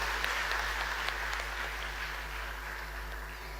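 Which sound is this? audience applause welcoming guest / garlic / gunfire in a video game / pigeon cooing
audience applause welcoming guest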